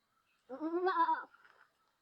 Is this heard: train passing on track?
no